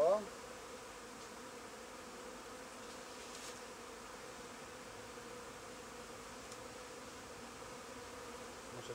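Honeybees hum steadily around an open hive during beekeeping, a faint continuous buzzing swarm that stays level throughout, with a brief louder sound at the very start.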